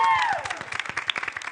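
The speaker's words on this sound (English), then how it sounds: "let's have another round of applause for the audience" Brief audience applause at a school telethon at Suffield Academy, scattered clapping and light cheering that fades quickly.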